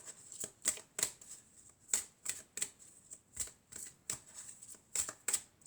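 Tarot cards are shuffled and drawn by hand: a quiet, irregular series of crisp papery slaps and riffles, close up, with short pauses between them.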